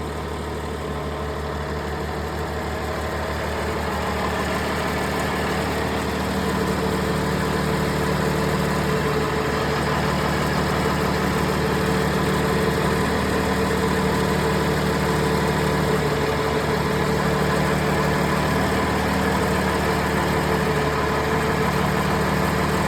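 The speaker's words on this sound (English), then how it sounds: "You can hear the pitch of the engine change depending on what cylinder you're cutting out." A Cummins ISL9 diesel engine idling through a cylinder cutout test, a steady loud low rumble with constant vibration, heard close and alone with a slight rise in level early on.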